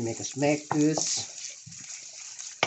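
Ginisang ampalaya, bitter melon sautéed in a frying pan, sizzles softly as a spoon scrapes and stirs it, with a voice talking over the first second and a sharp clink near the end.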